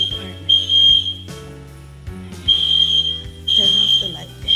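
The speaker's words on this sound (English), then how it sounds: "It's our first fire alarm since we've been at the apartment." A shrill, high-pitched smoke alarm in an apartment beeps in long repeated chirps while people talk over it nearby.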